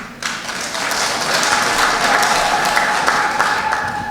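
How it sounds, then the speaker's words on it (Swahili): An audience at a political rally in Kenya breaks into sustained applause, a dense, steady wash of clapping lasting about four seconds. "Asanteni sana kwa makofi"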